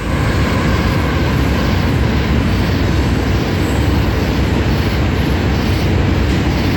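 A loud, steady rumbling roar of a train going past, continuous and close with no pauses throughout.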